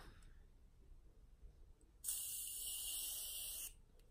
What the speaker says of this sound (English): Such a light spray